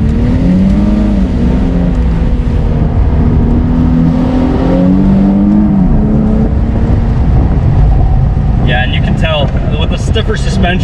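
A 2015 Infiniti Q60 IPL convertible's engine drones loudly and steadily while driving, with a rising and falling tone, then a burst of crackling exhaust burbles near the end.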